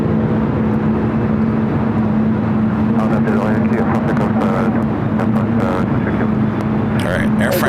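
A jet airliner roars steadily at LAX with a constant low engine drone and tonal hum, heard up close and loud, while radio chatter and voices come over it.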